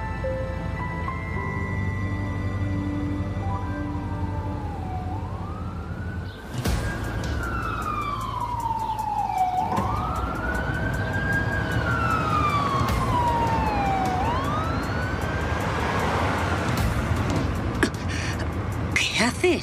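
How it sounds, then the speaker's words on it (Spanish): An ambulance siren wails loudly, rising and falling in long sweeping cycles over road noise, with a sharp impact partway through. "¡Tienes que dejar pasar a la ambulancia!"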